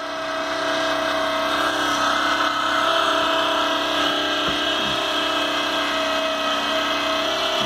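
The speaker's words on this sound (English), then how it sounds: "The pump is running." An overheating Magnafuel electric fuel pump on a 1999 Camaro runs with a steady, loud, continuous whine and hum that holds unchanged throughout.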